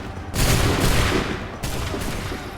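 A massed musket volley in Assassin's Creed III bursts out as a loud crackling roar of gunfire, then a second volley follows about a second later and fades slowly.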